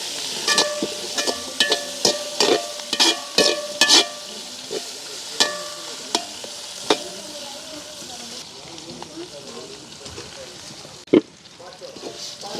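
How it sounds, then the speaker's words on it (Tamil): Onions and green chillies sauté in a pan as part of a country-chicken village feast, with a steady sizzle and a run of sharp clacks from stirring early on, fading to a softer fry. "வெங்காயம் பச்சை மிளகாய் எல்லாம் எங்களுக்கு அப்படியே நல்லா வதங்கி கொண்டு வந்துட்டு"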